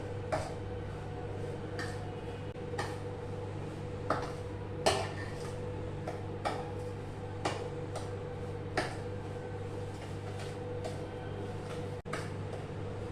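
Spoon or spatula clinks and scrapes against a bowl at an irregular pace while mango pickle ingredients with turmeric are mixed, each tap sharp and close over a steady low background hum.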